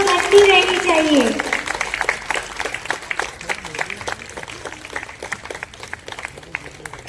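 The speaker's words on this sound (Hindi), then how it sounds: "कृपया आप तालियों में कंजूसी ना करें" An audience at a community honoring ceremony keeps up scattered, crisp applause, with many individual claps ringing out, while a voice speaks over the start.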